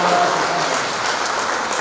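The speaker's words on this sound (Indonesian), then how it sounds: "Tepuk tangan untuk mereka semua." Steady audience applause fills the room at a children's Catholic hymn-quiz final in Yogyakarta, a dense, even wash of clapping heard alone from start to finish.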